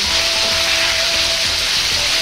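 Pork deep-frying in oil over high heat during a second fry, giving a loud, steady, dense sizzle with broad hiss that holds constant throughout, with no talking.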